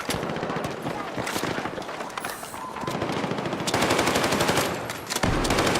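Loud, close bursts of rapid automatic gunfire alongside single shots, steady and dense throughout, with a brief pause near the end before firing resumes.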